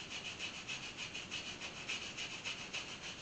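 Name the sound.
brushing gunk off bare cast iron engine part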